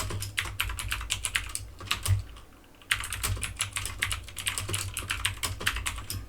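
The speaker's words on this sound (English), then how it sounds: "So I'm just going to type for description." Quick, irregular clatter of keys on a computer keyboard, close and clear, typing in a steady burst with a brief pause near the middle before resuming, with no voices.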